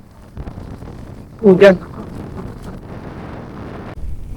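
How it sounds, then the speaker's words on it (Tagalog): Gusty wind buffets the microphone in a low, steady rumble, with a brief louder burst of a voice partway through. "Ramdam na ramdam ko dito yung lakas ng hangin."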